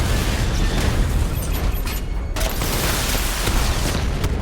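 Batmobile barrage explosions in Batman: Arkham Knight, a dense, sustained rumble of overlapping blasts and pops running loud and continuous throughout, with sharper bursts punctuating the roar.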